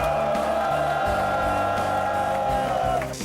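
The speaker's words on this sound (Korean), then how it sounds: "4차 범국민 평화행동을 함께하신 모든 분들의 함성과 박수로" Large crowd at an outdoor peace rally cheering and shouting over loud amplified music, a sustained roar of voices and whoops that holds steady and eases off at the end.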